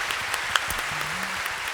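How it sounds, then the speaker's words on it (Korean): A short burst of audience applause at a Korean church mission talk event, steady hand clapping from a gathered crowd lasting under two seconds. "박수 해드리겠습니다"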